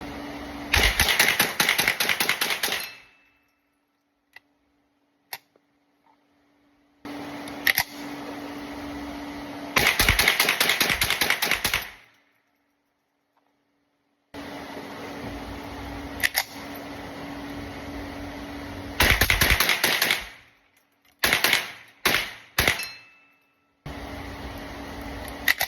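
Ruger 10/22 rifle emptying magazines in rapid bursts of sharp, closely spaced shots, several strings separated by pauses, with a few isolated single shots and a steady background hum between them.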